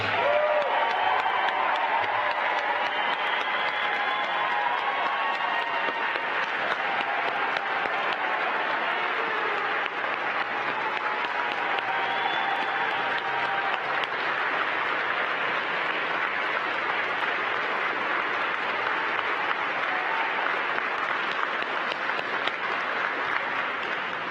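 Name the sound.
audience applause for NASA astronaut candidates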